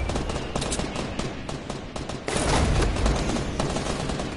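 Rapid bursts of gunfire in a PS4 shooter, dense crackling shots rolling continuously and growing louder and heavier midway, with no talk over them.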